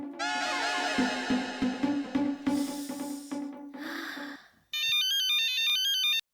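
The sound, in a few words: phone ringing on outgoing call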